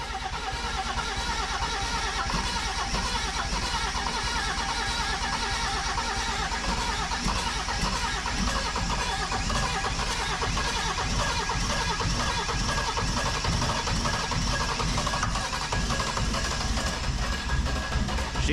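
A Mercedes 300SDL diesel sedan, sitting unused for five years, is cranked to start, producing a loud, steady, unbroken mechanical drone that holds at the same level throughout with no talk.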